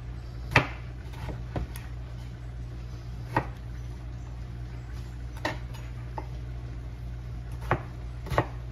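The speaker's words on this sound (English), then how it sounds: "I'm going to get the seasoning cut up." Knife chopping tomato and seasoning on a board, with sparse, sharp single knocks spaced irregularly over a low steady background hum, close and fairly quiet, with no talking.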